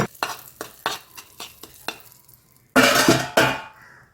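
A spoon scrapes rhythmically around a pot of spicy crab rasam, and then asafoetida is poured in, bursting into two loud, hissing sizzles.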